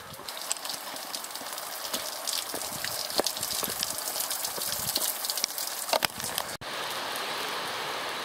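Water drips and gushes onto hikers walking beside a wet Madeira levada, a dense, continuous splashing rush with scattered close droplet hits, loud and steady and briefly interrupted once near the end.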